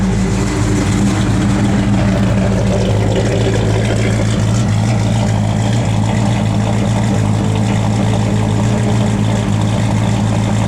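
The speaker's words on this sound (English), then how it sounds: "go ahead and give it a little rev" A 1964 Ford Falcon Futura engine runs close and loud, a steady low throbbing drone that holds at an even level throughout without a distinct rise in revs, and no voices come through.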